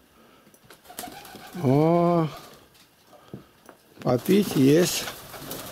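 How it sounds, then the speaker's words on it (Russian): Domestic pigeons at a dovecote give two bursts of nearby cooing, a rising-and-falling coo midway and a longer run near the end, with someone talking around them and faint rustling. "Вот они, мои голуби."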